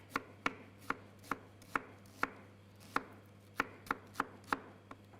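A knife chops shallots on a cutting board, about a dozen crisp, close knocks in an uneven steady rhythm with brief pauses between, no voices over them.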